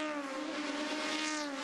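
Aussie Racing Cars roar past at Bathurst's Mount Panorama circuit, a dense pack of engines droning together at high revs, a steady, sustained whine heard from a distance with no speech.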